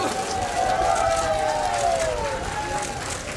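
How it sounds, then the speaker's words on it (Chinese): A crowd cheers and applauds steadily at the Luxembourg prime minister's same-sex wedding, a dense wash of voices and clapping filling the scene from start to finish. "在众人的欢呼声中，卢森堡总理贝特跟比利时建筑师戴斯特内手牵手完成人生大事"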